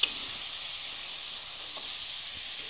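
Egg curry spiced with garam masala cooks in a pan, giving off a steady, soft, continuous sizzle and hiss throughout with no talking.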